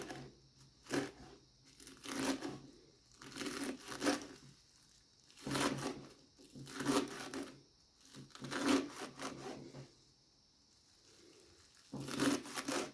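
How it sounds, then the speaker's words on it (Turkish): Repeated bursts of knife chopping parsley finely on a wooden board, in short clustered runs with brief pauses between them, close and crisp. "maydanoz da doğruyorum."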